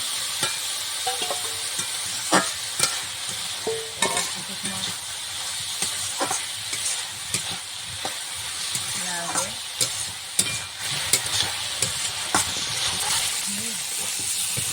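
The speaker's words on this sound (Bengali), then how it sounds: "এবার এর ভিতরে ভাজা আলুগুলো দিয়ে দেবো" Fried potatoes being stirred into the spice mix with boiled banana flower in a pan: an even frying sizzle beneath frequent sharp clinks and scrapes of a spatula against the pan.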